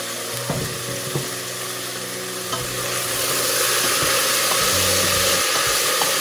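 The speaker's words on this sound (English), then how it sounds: "Well washed leeks go into the pot." Leeks, onion and garlic sizzle and fry in a pot as they are stirred, with occasional spoon scrapes and taps over a steady hiss that grows slightly louder.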